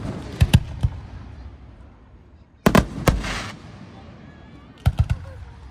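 Labor Day fireworks over Boiling Springs, Pennsylvania, burst in loud clusters of sharp bangs separated by short lulls, with crackling trails after the middle volley, and a voice occasionally audible underneath.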